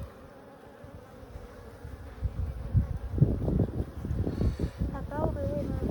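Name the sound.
honey bees buzzing around an open hive during inspection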